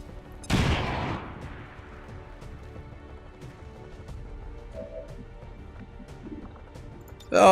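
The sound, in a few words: grenade explosion in XCOM 2 video game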